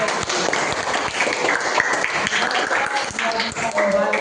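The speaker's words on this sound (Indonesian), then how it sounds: "Oke, tepuk tangan." A small group in a classroom setting gives a brief round of applause, close and uneven claps, with chatter and voices mixed in.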